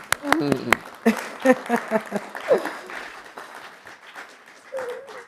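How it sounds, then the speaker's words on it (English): Scattered audience clapping at a DC mayoral and congressional delegate forum, with a few sharp claps near the start and then voices talking over thinner, fading applause. "you're more than welcome to give your round of applause now"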